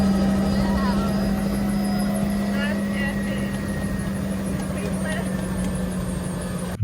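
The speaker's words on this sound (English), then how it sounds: "An helicopter on the beach." A helicopter idles on a beach sand landing spot, a steady loud rotor and turbine drone holding throughout with a strong low hum, while people talk faintly over it.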